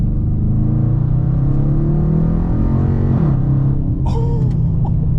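A Dodge Challenger R/T with the 5.7 V8 revs while driving, a loud close rumbling engine note that climbs steadily in pitch, then eases off near the end.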